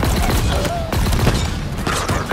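Rapid bursts of gunfire in Halo Infinite crackle in close, dense volleys with sharp repeated shots and booming impacts, loud and continuous throughout the short stretch.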